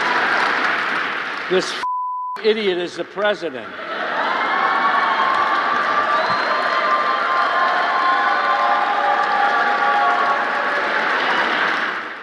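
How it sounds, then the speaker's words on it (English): After a censor beep and a brief spoken line, a large crowd breaks into loud, sustained clapping and cheering that continues steadily to the end. "Let's clap for that."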